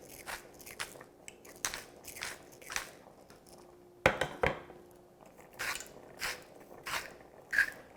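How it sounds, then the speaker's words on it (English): A hand pepper mill grinds fresh cracked black pepper over a spaghetti dish in a kitchen, producing a series of short rhythmic crunching twists, quiet and close, with a sharper clatter midway. "now I'm just going to add a little fresh cracked black pepper and some salt."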